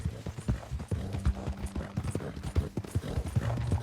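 Horse hooves clip-clop in Red Dead Redemption 2 as a horse is ridden toward Saint Denis, a steady, close rhythm of hoof strikes over a low droning hum throughout.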